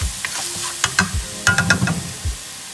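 Peppers, onion, sazon and ham powder sizzle softly in a pan, with a few scattered stirring scrapes and clicks over a low cooking hiss.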